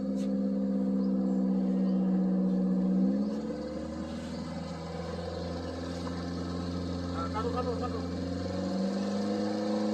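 A car on a zigzag driving-training course at a motor driving school, its engine humming steadily then dropping to a lower idle-like drone after a few seconds, moderately near, with a faint voice in the background.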